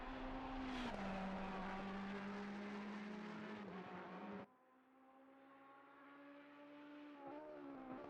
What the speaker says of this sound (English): Very unique note then from that 488.